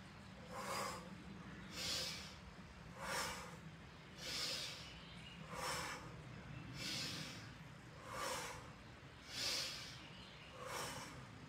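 Deep, slow breaths during outdoor qigong practice, drawn in through the nose and let out through the mouth, with about eight evenly spaced, soft, airy breath sounds close up and no talking.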